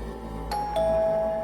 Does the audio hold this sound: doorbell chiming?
yes